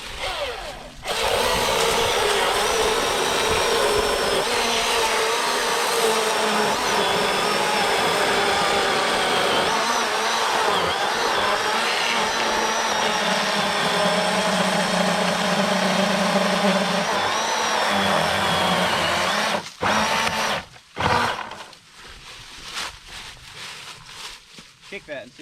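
A chainsaw cuts through a fallen tree lying across a road, running loud and steady at full throttle for about twenty seconds before cutting out, with people talking afterward.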